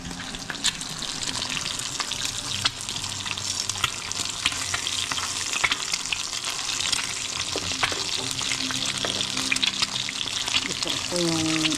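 An egg frying in a pan with bacon nearby, a steady soft sizzle and crackle running throughout, with light clinks and a brief splash of water near the end.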